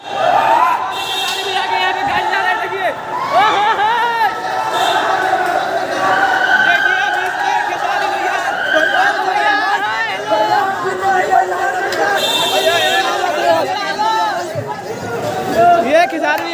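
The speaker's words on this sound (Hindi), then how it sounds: "कितना भीड़ हो गया है" A thick crowd of moviegoers leaving a Patna cinema hall chatters loudly around an actor, a continuous close babble of overlapping voices with shouts rising above it.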